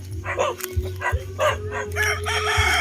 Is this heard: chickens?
yes